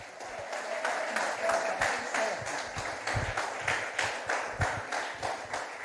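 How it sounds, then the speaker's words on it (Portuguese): A church congregation applauds during a sermon, rhythmic, fairly distant clapping sustained throughout with faint crowd murmur. "Pode aplaudir ao Senhor."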